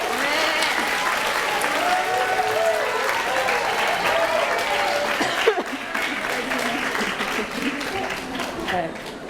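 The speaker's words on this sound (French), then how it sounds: "Applaudissements," An audience at the BNF claps for student readers at the Prix Goncourt des lycéens author meeting, steady applause throughout with voices talking over it and a brief dip partway through.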